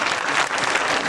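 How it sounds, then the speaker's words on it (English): A school assembly audience claps continuously, a dense, loud wash of many hands filling the hall from start to finish with no speech over it. "Yes, it's okay to applaud, guys."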